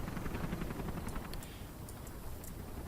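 Helicopters in the real-time strategy game Command & Conquer Generals fly overhead, a low, steady rotor thrum with rapid chopping pulses, fairly quiet and continuous with faint clicks of game interface sounds.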